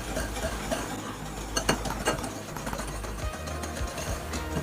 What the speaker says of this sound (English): So let's whisk this together just like it says.